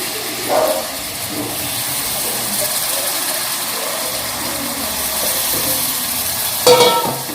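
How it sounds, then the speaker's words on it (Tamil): Washed mutton pieces sautéing in a pan with softened onion and tomato, a steady close sizzle and hiss running throughout, with a couple of brief stirring clatters near the start and end. "இப்போ இதில் மட்டன் கழுவி வச்ச மட்டனை சேர்த்துக்கிறேன்"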